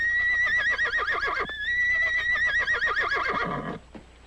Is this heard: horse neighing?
yes